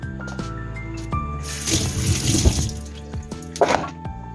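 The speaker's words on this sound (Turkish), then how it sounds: "bu şekilde tane şeklinde yıkayacağız bunları" Unripe grapes are washed under a running kitchen tap, water splashing steadily into the sink with handling noises and a few clunks, close and moderately loud.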